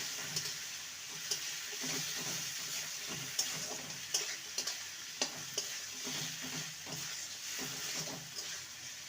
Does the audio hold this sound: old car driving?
no